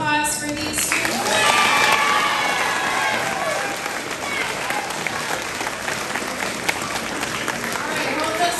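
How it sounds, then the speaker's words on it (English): Sustained applause and scattered cheers from a crowd of families at an elementary school fifth grade awards ceremony, steady and loud throughout, with some children's voices mixed in. "All right, one final round of applause for these students."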